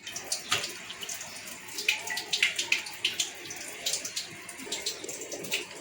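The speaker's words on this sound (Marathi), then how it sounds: "म्हणजे मासे कसे धुवून घेतले ते स्वच्छ" Fish and prawns being rinsed in water, with irregular splashing, sloshing and dripping that comes through close and fairly loud in uneven bursts.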